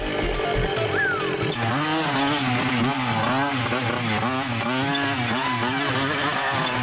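A cartoon motorbike engine revs up and keeps climbing in pitch, its buzzy warbling drone swelling and rising several times, loud and close, with no talk over it.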